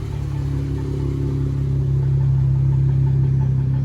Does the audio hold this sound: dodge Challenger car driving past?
yes